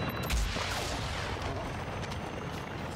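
Gunfire aimed at a helicopter in Call of Duty DMZ, with a heavy shot early on and then a dense, rumbling wash of distant firing and booms.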